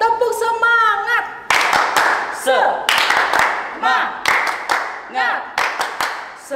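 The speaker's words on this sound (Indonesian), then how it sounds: "kita tepuk semangat dulu ya adik-adik ya" Children at a Sunday school session do rhythmic spirit clapping in patterned bursts of claps and thumps, mixed with loud group chanting and shouting.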